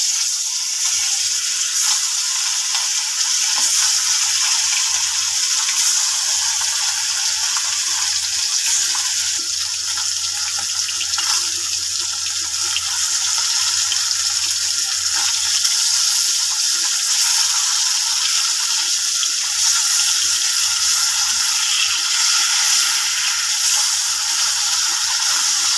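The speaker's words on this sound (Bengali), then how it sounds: "মাছগুলো তেলে দিয়ে দেবো।" Hilsa fish pieces lightly frying in hot oil in a wok: a loud, steady hiss-like sizzle running continuously throughout, with faint crackles and no voices.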